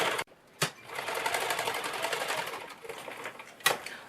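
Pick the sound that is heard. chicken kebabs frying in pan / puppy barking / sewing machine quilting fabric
sewing machine quilting fabric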